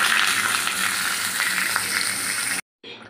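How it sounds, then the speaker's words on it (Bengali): Potatoes frying in a pan, a dense continuous sizzle and crackle heard close up and alone, cutting out abruptly near the end before resuming faintly. "আলুগুলো লাল লাল ভাজা হয়ে গেলে তার ডাঁটাটা দিয়ে দেবো আমি"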